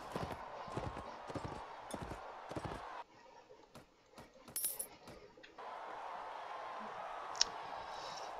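Horse hooves clip-clop in a medieval combat video game, a steady run of sharp, close knocks that pauses midway and then resumes under constant game ambience.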